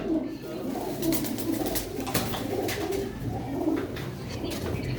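Pigeons at a loft keep up soft, repeated cooing close by, a low murmuring rhythm with occasional wing flutters and rustles.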